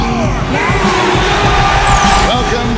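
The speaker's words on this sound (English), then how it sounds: "Listen to that crowd cheer for us." A crowd in the NBA 2K15 basketball video game cheers and roars continuously, with loud, dense arena noise throughout.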